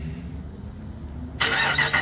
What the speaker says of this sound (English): the exhaust leak that's pretty common on these Hemi manifolds